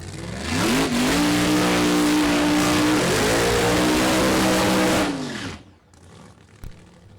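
A funny car engine from a Firebird and Mustang pairing at a drag strip roars loud and close, holding a steady high rev for several seconds before cutting off abruptly, leaving faint background noise.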